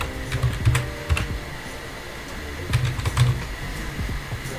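Keys clack on a computer keyboard in short irregular bursts, typing a shell command in Vim on a Linux system, close and crisp with quieter gaps between clusters and no voice.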